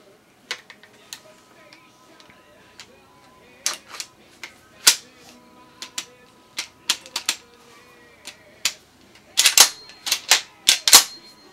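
Parts of a Remington 870 12-gauge pump shotgun click and snap together as the bolt is fitted during assembly, a series of sharp, close metallic clicks in irregular bursts with quiet gaps between.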